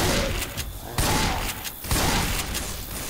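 Bursts of rapid gunfire in Left 4 Dead 2, loud repeated volleys with brief gaps between them.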